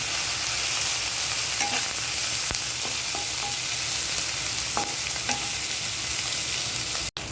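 Dried fish (shutki) with green chillies frying in a pan, a steady broadband sizzle and crackle with occasional stirring scrapes, close and continuous with no talking.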